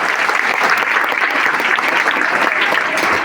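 Students clap together in applause at a school gathering, loud, continuous and evenly spread, with no talk over it.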